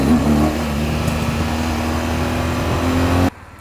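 A BMW 310R motorcycle rumbles past close by, a loud steady engine drone with a sustained tonal whine that cuts off abruptly near the end, leaving quiet.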